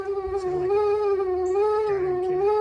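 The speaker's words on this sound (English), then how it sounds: "What a odd noise. The blower motor." A steady, whining heater blower motor hum from an Oldsmobile Cutlass, with a strong tonal drone and faint rattling underneath, continuous and close.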